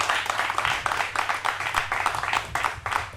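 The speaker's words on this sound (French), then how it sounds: "Acclamez un peu pour vos bienfaiteurs." Schoolchildren at a book donation ceremony clap for their benefactors, a dense, continuous round of applause from a crowd that carries on for a few seconds.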